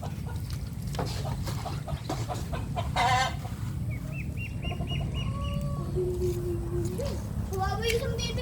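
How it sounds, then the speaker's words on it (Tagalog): Pet ducks being fed make short quacking and clucking calls in brief bursts over a constant outdoor rumble, with people talking nearby throughout. "Napakain ng aming alagang bibe."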